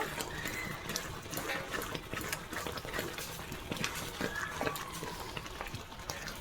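Boiled dal of lentils being stirred in a pot, with soft repeated scraping and sloshing strokes over a low bubbling background, close and fairly quiet.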